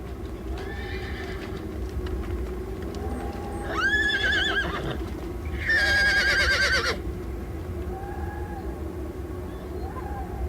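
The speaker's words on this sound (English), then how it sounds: "Play the horse again, play the horse again" A recorded horse neighs several times, with shrill whinnies rising and falling over a steady background, the loudest near the middle, along with a soft clip-clop of hooves.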